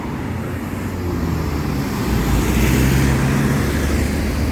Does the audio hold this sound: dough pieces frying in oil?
no